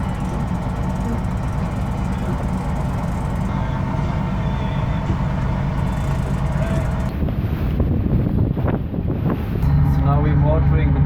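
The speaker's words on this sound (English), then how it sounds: "right now we are turned on the motor because we were just so slow, like 1 knot or something. And now we have 6 knots" A sailboat's engine runs while the boat motors along at six knots, a steady low drone with wind buffeting the microphone and someone talking over it.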